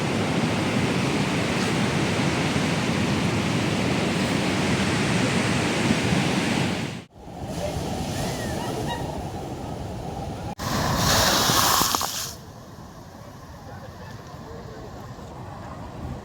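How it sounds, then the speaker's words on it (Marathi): Sea waves surge and crash over a stone masonry wall at a seaside temple at Ganpatipule, a loud continuous wash of surf broken by brief drops and a fresh rushing surge near the end. "जे चिऱ्याचं बांधकाम आहे ह्याच्या वरून लाटा वरती आहे मंदिरात आतमध्ये"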